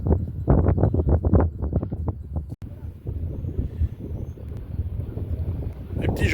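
Wind buffets the microphone on a beach in Normandy where land sailing yachts race past, rumbling steadily and loudly, with muffled voices talking over the gusts.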